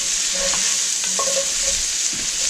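Bacon and sausage frying in a pot for Tuscan soup: a dense, steady sizzle with a few soft stirring scrapes and clinks, close and loud, with no voices.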